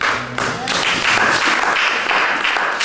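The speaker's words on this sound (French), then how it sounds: "Vous applaudissez pour vous-même" A church congregation claps at a Christmas-season gathering, a dense and loud wash of many hands that holds steady throughout, with faint voices mixed in.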